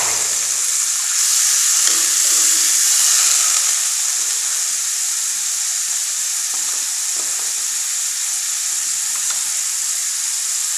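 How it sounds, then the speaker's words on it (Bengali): Chopped onions sizzle hard in a pan, the hiss swelling briefly around the second to third second as water goes in, then settling into a steady frying crackle with occasional light clinks. "পেঁয়াজ কুচিটা ভাজা হয়ে গিয়েছে, এখন আমি দিয়ে দিব পরিমাণ মতো পানি।"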